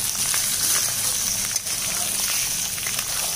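Pieces of young goat mutton fry in melted fat in a pan, giving off a steady, bright sizzle and hiss with faint crackles. The sound stays even and fairly loud throughout.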